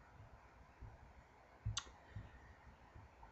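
A single crisp mouse click sounds near and alone in quiet software-configuration surroundings, with faint low thumps around it.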